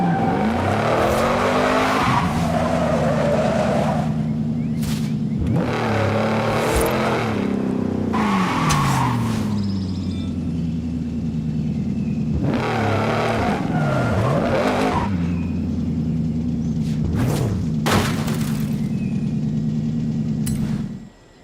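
A car in the Forza Horizon 5 video game drives hard, engine revving loudly and rising and falling in pitch while tires squeal and skid in repeated bursts, close and continuous, no voices.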